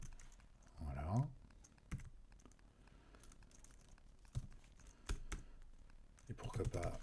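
JavaScript code being typed on a computer keyboard, with soft, scattered keystrokes and clicks while someone speaks quietly between them.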